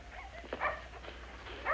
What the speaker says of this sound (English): What the heck kind of a dog is that?